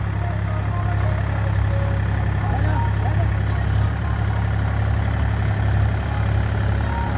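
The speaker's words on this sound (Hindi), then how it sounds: "ट्रैक्टर से पावर जो रोटर है इसी से हम देखिए इधर लेबल करवा दे रहे हैं" A tractor-powered rotavator levels soil at a pond construction site, its engine droning loud and steady at close range, with a low rumble running continuously throughout.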